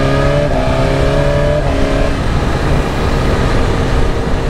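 A 2023 BMW S1000 RR motorcycle engine revs loud and close with a rising then falling whine, followed by a rough, crackling exhaust sound.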